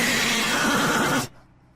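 A horse gives one loud, drawn-out whinny with a wavering pitch, playing from a video, then cuts off abruptly into near silence.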